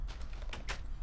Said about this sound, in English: Oh, I opened 2 doors at once.